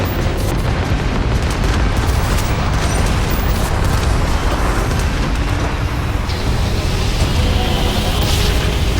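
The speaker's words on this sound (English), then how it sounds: "Tiroteio comendo solto." Gunfire in a space battle in the game Starfield comes as a loud, continuous barrage of booming blasts and bursts over a dense roar.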